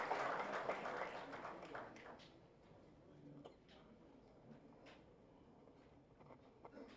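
An audience at a government event for an interstate transport agreement gives a welcoming round of applause that starts fairly full, then fades to faint scattered claps with a quiet murmur.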